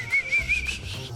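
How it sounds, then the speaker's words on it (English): A person whistles through their teeth, producing a few short, high, thin tones in quick succession, close and moderately loud, with no talking. "I think I can try whistling with my teeth"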